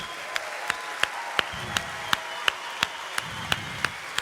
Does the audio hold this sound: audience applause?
yes